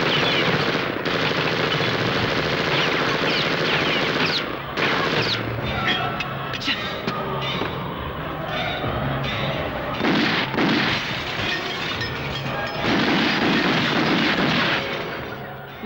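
Sustained gunfire in a Tamil action film scene, with dense bursts of automatic and heavy shots layered over one another, loud and continuous for the whole stretch, while shouting voices surface faintly in the mix.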